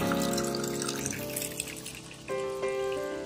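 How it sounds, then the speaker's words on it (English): A small waterfall at Krangshuri Falls in Meghalaya, a steady rush of falling water heard near and fairly loud, with clear tonal ringing over the broadband splash. "that's another waterfall"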